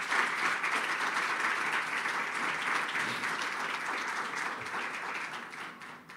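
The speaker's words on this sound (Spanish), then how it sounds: "Denle un fuerte aplauso al Señor." A church congregation applauds steadily, a dense, even wash of many hands clapping at once, sustained for several seconds and fading slightly toward the end, with no voices over it.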